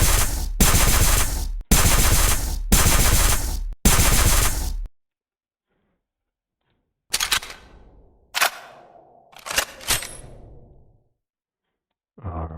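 A futuristic Vector rifle firing: five loud, evenly spaced sharp bursts, then a stretch of silence, followed by several scattered, sharper shots with ringing tails, close and clear.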